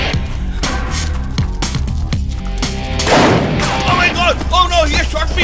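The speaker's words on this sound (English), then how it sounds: "Oh no, he has shot me!" A loud gunshot in an English-language movie scene, a sharp crack followed by a burst of noise, over dramatic background music and amid frantic shouting voices.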